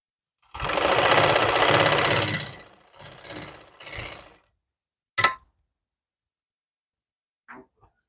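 A sewing machine stitches a pocket into palazzo trousers in one loud, close two-second run, followed by two short bursts and a sharp click, then near silence.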